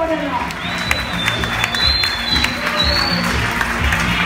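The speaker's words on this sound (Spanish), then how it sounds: "¡Fuerte el aplauso!" Audience applause fills a bar during an improvised stand-up comedy show in Barcelona, a dense, steady clapping that continues for the whole stretch with scattered cheers mixed in.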